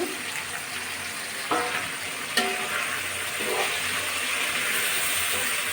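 Potatoes and whole spices frying in hot oil in a pan for a rohu fish curry give a steady, fairly loud sizzle, with a few sharp knocks of stirring near the start and no talking.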